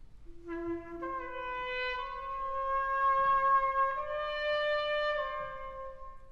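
An orchestra plays a drifting, overlapping minor-key opening theme. Sustained notes enter one after another and layer into a soft, hovering chord, moderately quiet and heard alone.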